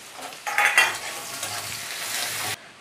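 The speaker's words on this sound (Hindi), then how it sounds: "इसी में हम ये प्याज भी डाल देते हैं और इसे भी हम अच्छे से भुनेंगे" Onions frying with whole spices in a hot pan for an arbi leaf curry, a loud sizzle erupting as they hit the oil, with stirring scrapes, then a steady hiss that cuts off abruptly.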